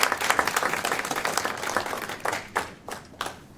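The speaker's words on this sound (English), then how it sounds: "Carter another round of applause for a great job." A seated audience at a prostate cancer clinical trial webcast applauds, loud overlapping claps that gradually thin into a few separate late claps.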